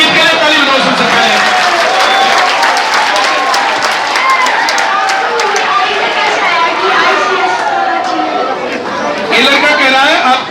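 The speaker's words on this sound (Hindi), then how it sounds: "अंकित के लिए ताली बजाओ सबसे पहले" A school audience of students gathered for a scholarship test event claps and cheers for a boy named Ankit, with steady loud applause and crowd chatter filling the room throughout, briefly dipping before swelling again near the end.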